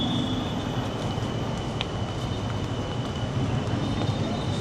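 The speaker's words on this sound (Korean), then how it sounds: "출발합니다 기차가 위에 게 먼저 떠나네요" A train pulls away on an elevated track in Bangkok, a steady broad rumble with a faint high whine and a brief squeal, fairly loud and continuous with no talk.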